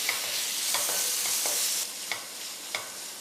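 A prawn and egg mixture fries on a high flame, producing a bright, steady sizzle with occasional spatula clicks against the pan, close and unaccompanied by speech.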